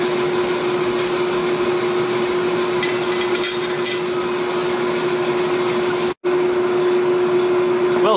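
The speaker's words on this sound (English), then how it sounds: "I grind the end there and see if I got rid of that" Grinder working the end of a forged steel blade, with a steady high whine and dense rough noise running for about eight seconds, close and loud, broken by one brief cutoff near the end before resuming.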